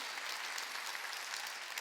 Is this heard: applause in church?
yes